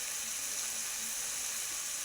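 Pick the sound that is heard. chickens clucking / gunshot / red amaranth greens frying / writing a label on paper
red amaranth greens frying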